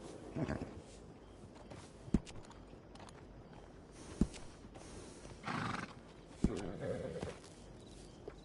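A horse in a video game whinnies a few times amid soft clip-clop hooves and scattered sharp clicks, faint and at a middle distance, with quiet background ambience.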